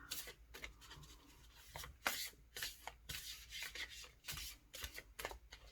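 Tarot cards shuffled by hand close to the mic, quiet irregular riffles and slides in short bursts, with soft rubbing between them.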